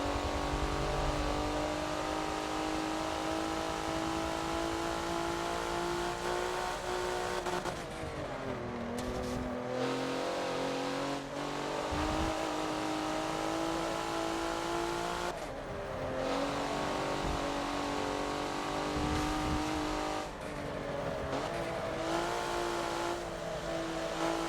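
Race car engine in the Forza video game at Road Atlanta, a loud sustained high-pitched roar that drops and climbs as the throttle lifts and reapplies through corners, with brief tire squeal, steady and close throughout.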